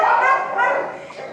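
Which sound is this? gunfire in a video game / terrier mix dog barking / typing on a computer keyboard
terrier mix dog barking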